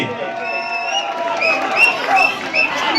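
Crowd clapping and cheering at a tug-of-war quarter final match in Pulpally, Wayanad, a continuous wash of applause and shouts under an announcer's excited voice.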